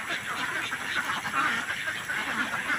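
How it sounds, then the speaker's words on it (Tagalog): Pet ducks arriving in the afternoon, a dense, steady chorus of quacking and honking fowl calls, continuous and fairly close, with no clear talk. "parating na po yung ating mga alagang itik"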